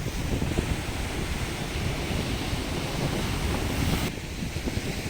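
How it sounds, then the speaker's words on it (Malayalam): Ocean waves wash steadily onto a beach, a continuous loud roar of surf with rough wind buffeting the microphone and a brief dip in the hiss near the end. "ഈ ഓളം വന്നിങ്ങനെ അടിക്കണാണുമ്പോൾ"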